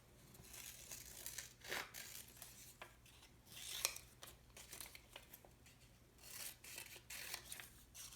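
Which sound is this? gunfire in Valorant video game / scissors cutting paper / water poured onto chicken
scissors cutting paper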